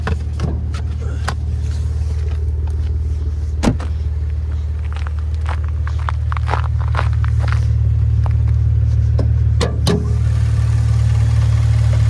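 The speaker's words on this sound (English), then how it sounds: "There's that 3-liter twin turbocharged V6." The 3-liter twin-turbo V6 of a 2014 Maserati Ghibli S Q4 idles steadily nearby, a low continuous hum that swells slightly midway, broken by a few sharp clicks and knocks close by.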